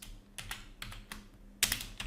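Keystrokes on a computer keyboard, a few quick clustered clicks with short pauses, close and moderately loud, with a faint low hum beneath.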